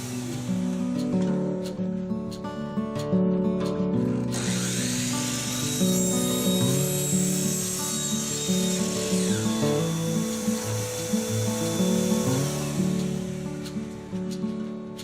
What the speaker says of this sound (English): I begin by cutting two 24-inch sections of Schedule 40 PVC pipe.